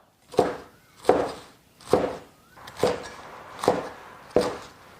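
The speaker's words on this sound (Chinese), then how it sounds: "先把这个芹菜切成节" A knife chops celery into segments on a board: six evenly spaced, crisp thuds about one per second, close and clear, with quiet pauses between.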